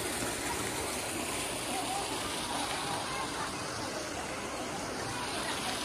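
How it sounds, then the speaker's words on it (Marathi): A waterfall at Lonar lake falls continuously, giving a steady, dense roar of water that stays loud and unbroken throughout. "इथून पाणी कंटिन्यू 24 तास इथून पाणी पडत राहते."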